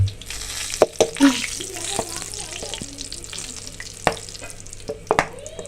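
Oil crackles and sizzles softly as spices and chili fry for a kadhi pakora tempering, with scattered clinks of a spoon against the pan and a faint watery hiss.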